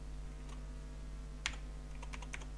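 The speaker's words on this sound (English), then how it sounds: "So double left click and type some text." Keys tapped on a computer keyboard while entering text into a software field: a single click, a firm keystroke, then a quick cluster of several taps. Faint and close over a steady electrical hum, with no speech.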